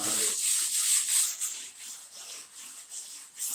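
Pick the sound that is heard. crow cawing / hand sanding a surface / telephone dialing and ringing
hand sanding a surface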